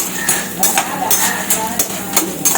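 Tamarind sautéing in oil in a pan, with repeated close scraping and clattering strokes of a spoon over a light sizzle; someone speaks briefly.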